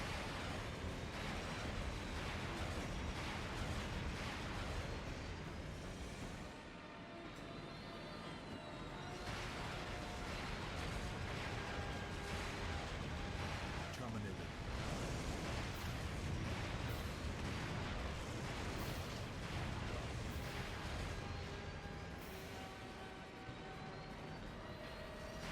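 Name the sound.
tank firing and explosions, from video game Terminator 3: The Redemption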